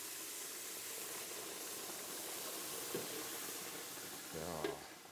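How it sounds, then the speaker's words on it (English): Cold venison stock hits hot roux in a pan, giving a soft, steady sizzle and hiss that swells briefly near the end as the liquid goes in. "we're going to be adding cold stock to it, and you'll hear it sizzle as it hits"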